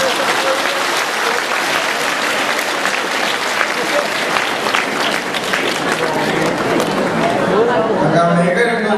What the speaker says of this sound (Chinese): 哎，鼓掌吧，鼓掌。